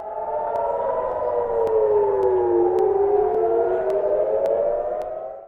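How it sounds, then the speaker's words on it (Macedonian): An air raid civil defense siren wails loudly and continuously, its rising and falling pitch sweeping slowly up and down, sounding alone and steady across the whole stretch. "Сирени за воздушна одбрана се огласија и во Израел."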